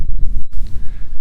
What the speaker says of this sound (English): This is the wind that I'm dealing with